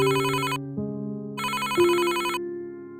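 A telephone rings in an animated drama, producing bright electronic ringtone bursts in two clear pulses over a steady tonal melody line, close and clean with no talking.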